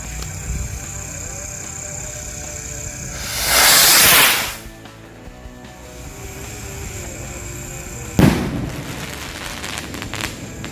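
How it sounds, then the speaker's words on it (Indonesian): A jumbo rocket firecracker roars in a loud hissing whoosh as it launches, then a sharp boom bursts outdoors a few seconds later, trailing crackle and fading rumble. "langsung kita nyalain mercon roket yang jumbo"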